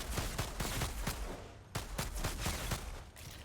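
Dual sidearm pistols in the shooter game Outriders fire in rapid bursts, a dense run of sharp cracks with a brief pause midway before the volley resumes, close and loud with no talking.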